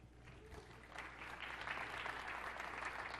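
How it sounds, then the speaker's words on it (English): Conference audience at a SharePoint session applauding, a soft, distant patter of many hands that swells slightly after the first second and holds steady. "I do appreciate the applause."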